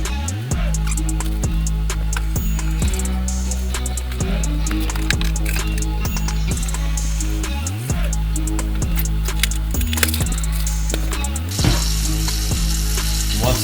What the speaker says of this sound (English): Throw them into the frying pan.